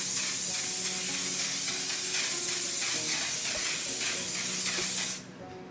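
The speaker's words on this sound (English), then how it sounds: "I'm gonna spray with the One Size On Till Dawn setting spray" A continuous close hissing of One Size On Till Dawn makeup setting spray runs for about five seconds, then cuts off abruptly into quiet.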